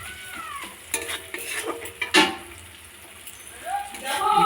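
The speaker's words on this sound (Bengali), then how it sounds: "সব মশলা দিয়ে কষানো হচ্ছে।" Spices stir-fried with onions and green chillies in a pan, a spatula scraping and clinking over a moderate sizzle, with brief bursts of voices in the background.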